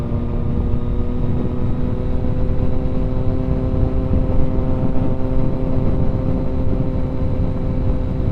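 Triumph Daytona 675 sport motorcycle on a ride out, its engine droning steadily and loudly from close by with a constant harmonic hum and rushing wind, no talk over it.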